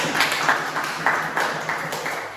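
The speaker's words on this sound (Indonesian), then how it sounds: "beri tepuk tangan ke kelompok 4" A class of students applauds a presenting group in a chemistry lesson, producing a dense, steady patter of many hands that swells slightly in pulses without fading.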